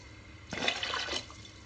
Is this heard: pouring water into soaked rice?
yes